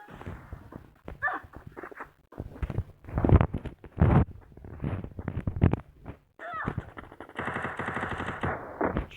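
Small gun firing in a video game: bursts of rapid automatic shots repeat throughout, mid-loud, with continuous game effects and a steady buzzing hum near the end.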